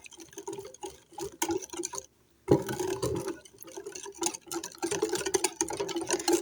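Milk pours into a bowl of semolina cake batter in a steady liquid splash, broken by a short pause before the stream starts again.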